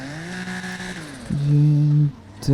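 A car engine in GTA idles with a steady hum, then revs up sharply, holds a loud roar and drops back before one last blip, close and alone.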